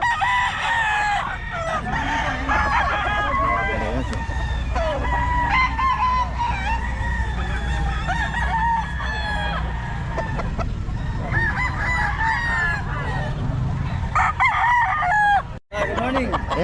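Several roosters crow repeatedly at a Philippine market, overlapping and fairly close, amid clucking fowl and a busy background of people talking.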